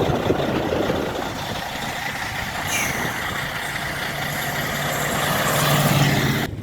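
A parked truck idles steadily at close range, a continuous low rumbling drone with slight swells, no voices.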